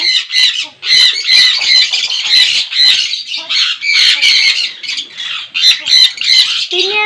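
Loud, repeated harsh squawks from African parrots in an aviary, several birds calling almost nonstop in overlapping bursts close by.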